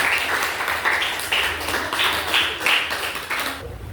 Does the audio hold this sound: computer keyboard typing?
no